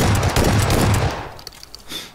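Shotgun fire in the battle royale game PUBG: several loud, booming gunshots in quick succession over the first second, then a fading tail with faint clicks and rattles.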